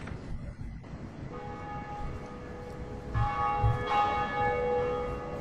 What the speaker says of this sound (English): First bell sounds.